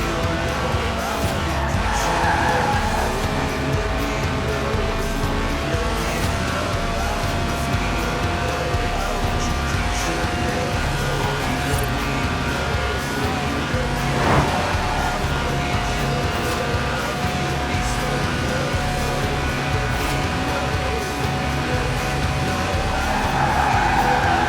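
A Lotus race car with a 190-horsepower 1.8-litre engine revving to 8,000 RPM in Forza Horizon 4, a steady high-pitched engine drone held throughout with faint tire noise, loud and continuous.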